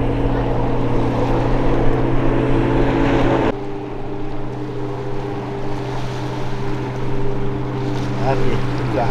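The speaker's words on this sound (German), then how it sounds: "Das Schiff ist ein Tanker, ist 86 Meter lang und 10 Meter breit." A Dutch tanker ship, 86 metres long and 10 metres wide, travelling upstream on the Rhine near Biebesheim, producing a steady, loud low engine drone with a constant hum and faint water wash, continuous throughout.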